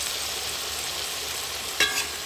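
Oil sizzles in a pan during frying, a steady close hiss that runs evenly throughout, broken near the end by a short sharp clatter.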